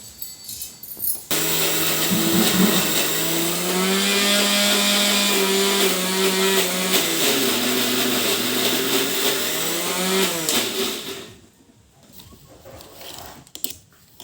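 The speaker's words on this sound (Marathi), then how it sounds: "तर आता मसाला बारीक करून घ्यायचा आणि त्याच्यामध्ये टाकायचा थोडा थोडा थोडा बारीक करून घ्यायचा" Electric mixer grinder runs for about ten seconds grinding black masala spices, a loud whining motor with a wavering pitch, then it cuts off into near quiet.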